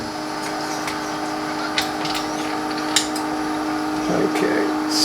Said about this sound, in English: Let me turn on the vacuum.